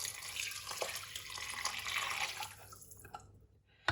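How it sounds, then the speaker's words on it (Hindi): Hot water poured into rice in a pot for pulao, a steady close splashing pour that runs for a few seconds and then stops. "यहाँ पे आपने गर्म पानी इसके अंदर ऐड करना है"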